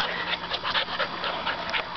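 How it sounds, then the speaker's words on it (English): Cattle dog puppies playing together, giving off soft panting, small whimpers and scuffling yips that run steadily and close by with no talking. "so who we have here, oops, is Luke, our little cattle dog puppy"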